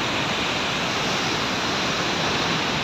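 Water pouring from a tubewell in Balochistan, a loud, constant rushing splash with no breaks, close by and unchanging throughout.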